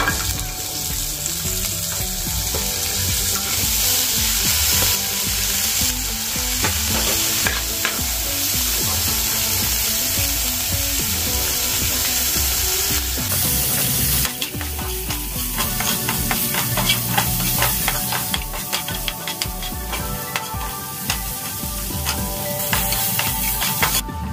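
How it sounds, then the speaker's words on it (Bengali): Cauliflower florets fry in a hot pan with a dense, continuous sizzle, broken by frequent scraping and clattering as they are stirred and turned, close and loud throughout. "এবার আমি ভেজে নেব এই ফুলকপিগুলো।"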